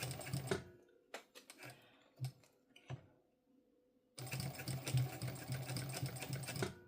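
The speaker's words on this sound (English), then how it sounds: "I'm just going to keep it at a stitch length of 4 and top stitch this zipper section here" A sewing machine topstitches a zipper section of a bum bag at a long stitch length, running in fast rattling bursts with short stops and a near-silent gap before a final sustained run.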